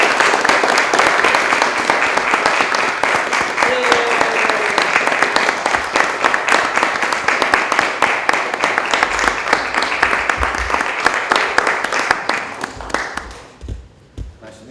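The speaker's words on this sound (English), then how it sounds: "give a nice warm round of applause for the next congressional leader from the state of Kansas, from the 1st District, Callie Barnett." An indoor crowd at a Kansas 1st District congressional campaign stop at FHSU claps in warm, steady applause that holds for about thirteen seconds, then thins and fades away.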